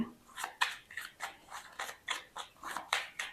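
Tarot cards being shuffled by hand in a series of quick, crisp riffling bursts, roughly a dozen evenly spaced flicks, close and moderately quiet, with no talking.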